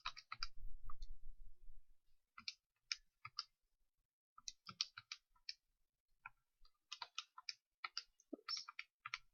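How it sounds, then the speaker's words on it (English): Calculator buttons are pressed in quick, irregular bursts of light plastic clicks, close and fairly quiet, with short pauses between key sequences. "when you type these into your calculator"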